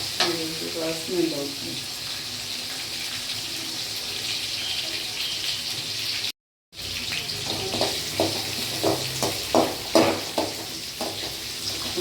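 Green chillies fry in a pan for a beginner-style poha, giving a steady hiss with stirring scrapes and brief clatter. A short voice speaks early, and the sound cuts out for a moment midway.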